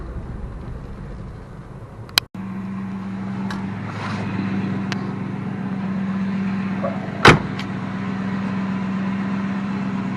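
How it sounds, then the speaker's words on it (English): 1962 Plymouth Belvedere V8 idling slightly fast, a steady low rumble throughout, with a sharp click near the start and a brief knock later, recorded close with no talk. "I got the idle turned up just a little bit."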